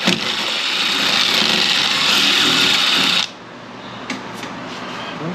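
A power drill whines loudly and steadily for about three seconds, then cuts off, leaving quiet room tone with a couple of faint clicks.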